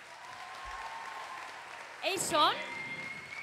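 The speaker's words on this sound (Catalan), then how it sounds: "Un aplaudiment per la banda." An audience at the Lluc Sanctuary evening concert applauds the band in a faint, steady wash of clapping, with a voice speaking briefly over it near the end.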